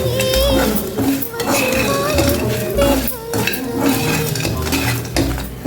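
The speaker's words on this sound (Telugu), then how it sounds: "వేసేసి వేయించుకున్నాం కదా ఈ ఆలు ముక్కలు కూడా ఇందులో వేసేద్దాం." Fried potato pieces with chili powder are stirred in a pan. A metal spoon scrapes and clinks loudly and repeatedly against the pan over a soft sizzle.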